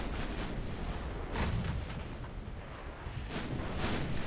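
Heavy booming torpedo impacts strike a light cruiser in a Japanese dreadnought-era naval battle game, two broad bursts about two seconds apart over a constant roar of battle noise.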